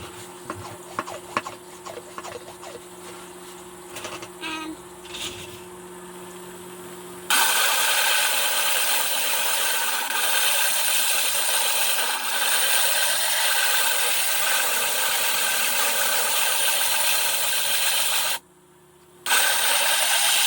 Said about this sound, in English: I am sitting in front of my 8-inch flat lap. I have a 100 grit top. This is where the shaping is done